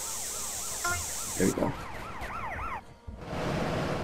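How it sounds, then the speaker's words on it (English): Wailing ambulance siren in the video game GTA San Andreas, rising and falling repeatedly and fairly loud, with a brief muffled cut near the end and someone speaking a few words over it. "the ambulance is coming"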